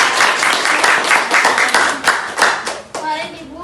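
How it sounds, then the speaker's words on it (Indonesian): A small group claps hands in congratulation at close range, making brisk, dense applause mixed with lively voices and someone speaking. "Tepuk tangan dulu."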